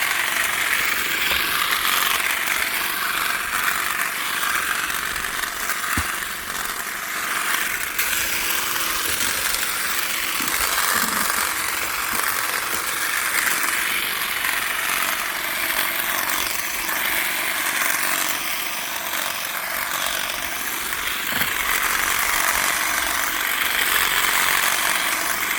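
A powered hedge trimmer cuts a circular hedge into a box shape, producing a continuous, fairly loud buzzing drone that wavers slightly as the blades work through the growth, with occasional faint clicks.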